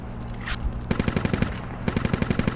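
Automatic gunfire in the military shooter game Squad: two rapid, evenly spaced bursts of loud close shots after a brief quieter lead-in, with no talking.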